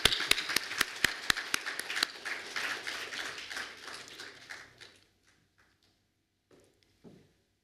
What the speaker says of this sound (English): A round of applause to that.